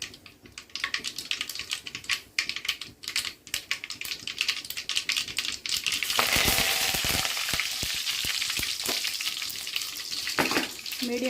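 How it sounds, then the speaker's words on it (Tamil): Mustard seeds and curry leaves frying in hot oil for a Tamil paruppu saatham tempering, a close, crackling sizzle that swells suddenly into a loud, steady hiss partway through, with light spattering pops. "இப்போ கொஞ்சமாக கருவேப்பிலை சேர்த்துக்கலாம்."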